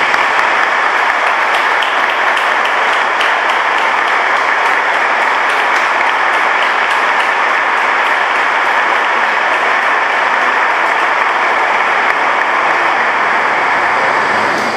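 A large congregation at a Chrism Mass gives sustained, dense applause in a church, loud and even for about fifteen seconds without pause, with no voices standing out.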